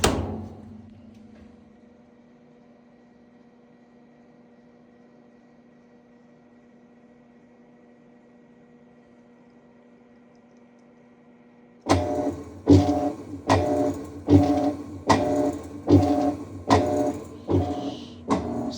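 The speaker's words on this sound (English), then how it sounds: "And that's just the agitator by itself." An Amana washing machine in diagnostic test mode: a fading motor hum gives way to a long quiet stretch, then the agitator starts alone, churning in loud, steady rhythmic strokes about twice a second until the end.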